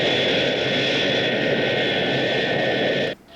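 A jet airliner roars loudly and steadily overhead on final approach to land on runway 28 left, a sustained whining engine rumble that cuts off abruptly near the end.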